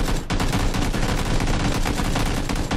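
Loud, rapid gunfire in the video game PUBG: Battlegrounds rattles continuously, dense bursts of shots packed together with no pause, close and harsh.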